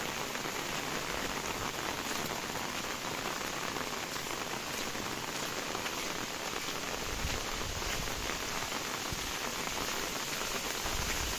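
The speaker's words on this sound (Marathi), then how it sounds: "पाऊस थोडा कमी झाला मित्रांनो" Steady rain hisses continuously on surfaces, a dense even patter at constant loudness with no voices.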